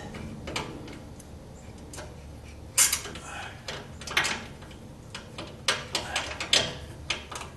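A ratchet tightens fabricated Pypes exhaust hanger bolts under a 1976 Corvette, giving scattered clicking bursts and metallic clacks in an irregular rhythm, close and moderately loud.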